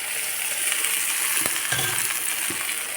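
Small mola fish fry in an oiled pan for a chorchori, giving a steady close sizzle with a few brief stirring knocks, and no voices.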